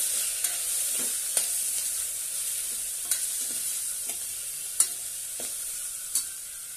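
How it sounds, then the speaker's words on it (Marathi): Steady sizzling of spices being sautéed with salt and red chilli powder in a pan, with a spatula scraping and clicking at intervals against the metal. "चवीनुसार मीठ आणि छानपैकी परतून घेऊ आधी।"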